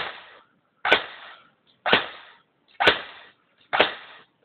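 Four single shots from a UMP45 airsoft gun, each a sharp snapping crack followed by a short mechanical rattle, spaced about a second apart, loud and close with no voices.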